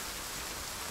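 Rain falling in the survival video game The Forest, a steady, even hiss of downpour with no other sounds.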